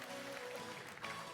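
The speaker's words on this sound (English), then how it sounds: "Round of applause for Shannon." Audience applause fills a conference hall as a steady, faint wash of clapping without pauses.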